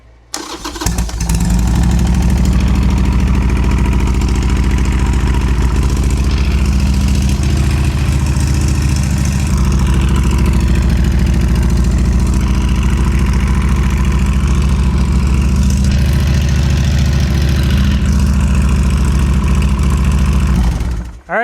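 A freshly rebuilt Harley-Davidson Sportster 1275 engine fires up in a garage and runs steadily for about twenty seconds of its heat cycle, a loud, close, deep rumbling idle before cutting off.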